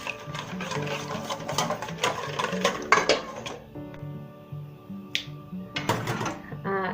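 A hand whisk beats eggs in a bowl for cinnamon French toast, giving quick, rhythmic metallic clicks and taps over faint tonal background sounds.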